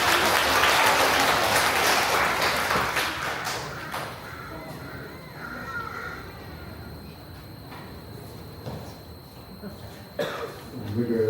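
A church congregation bursts into loud, dense applause that lasts about four seconds and then fades, leaving a quiet room with scattered coughs, shuffling and a brief bird caw.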